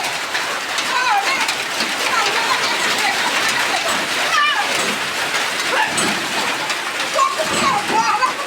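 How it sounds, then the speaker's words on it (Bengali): A sun-shower comes down as steady, fairly loud rain, spattering and splashing close by, with a few bird calls threaded through the constant patter. "রোদের ভিতর বৃষ্টি শুরু হয়েছে"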